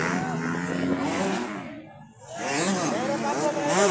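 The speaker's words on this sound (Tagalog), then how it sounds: "Pagka-power, gitituyok ang motor." A motorcycle engine revs loud and close during a ladies' category final heat race, its pitch climbing and falling in waves with a brief dip midway, while a crowd and an excited announcer talk over it.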